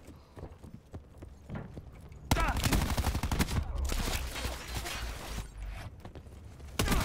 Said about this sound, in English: You got me with a shotgun?